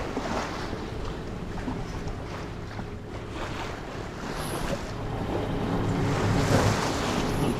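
Rough sea churned up by two days of westerly storm off Langkawi, Malaysia: a steady wash of waves slaps around a moored boat, with gusting wind buffeting the microphone and the sea noise slowly building.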